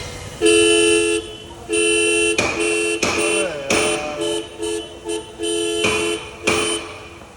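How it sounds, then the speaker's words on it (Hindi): A Tata car's horn sounds in a series of short, loud honks of uneven length, with brief pauses between them, close by. "और एक इसका हॉर्न एक सिंगल बज रहा है, वो देखो"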